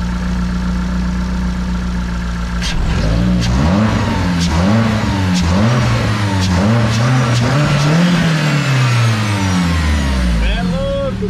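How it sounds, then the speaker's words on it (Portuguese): A Renault Sandero RS engine idles and then is revved repeatedly, rising and falling in quick surges close by, while people talk over it. "Não chegou nem no 4 do jeito que você acelerou ali."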